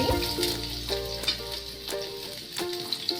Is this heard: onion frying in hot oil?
yes